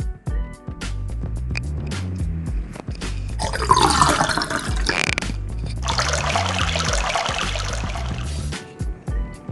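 Rice being washed for idli batter under running water: a stream splashes and gurgles into a bowl in two long bursts, with grains swished around and small clinks and knocks between the washes.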